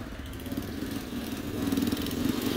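A motorcycle engine in a small Salvadoran town, a faint buzzing drone that rises a little in the second half as if revving or coming closer.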